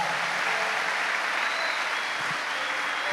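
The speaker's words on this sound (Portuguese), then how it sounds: "aplaude o Senhor bem forte" Steady, dense applause from a church congregation at a Catholic Mass, continuous clapping without pause.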